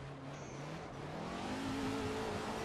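A 3,000 horsepower semi truck engine in the racing game Assetto Corsa on Rainbow Road, droning steadily and climbing in pitch as it accelerates, fairly faint and alone.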